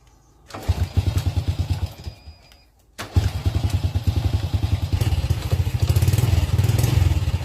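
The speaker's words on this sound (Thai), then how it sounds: "ตัวนี้เราสตาร์ทเครื่องอาการเป็นแบบนี้ครับ" A fuel-injected motorcycle with a suspected clogged injector cranks and idles briefly, cuts out, then restarts and keeps running with a loud, close, lumpy, uneven idle.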